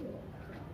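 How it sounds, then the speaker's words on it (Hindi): A German pigeon coos softly at close range, a low burbling call that runs briefly and fairly quietly. "इनके पास एक जर्मनी का ये कबूतर है"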